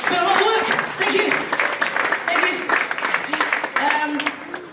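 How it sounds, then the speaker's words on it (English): Grade 5 students at an elementary school opening morning receive applause that rises and falls in bursts, with talking and cheering voices layered over the clapping. "Massive round of applause for them."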